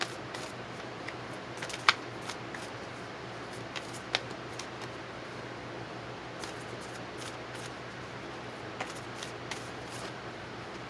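Tarot cards shuffled quietly and steadily during a weekly reading, with soft riffling texture and a few sharper card snaps standing out against a low, constant room hum.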